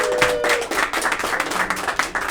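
An audience at a political campaign launch for a district attorney candidate bursts into dense, loud applause, many hands clapping steadily together.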